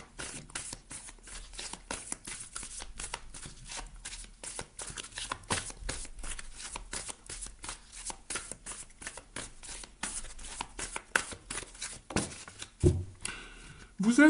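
Oracle cards are shuffled by hand at length, a quiet continuous flutter of rapid riffling snaps with soft speech in the background.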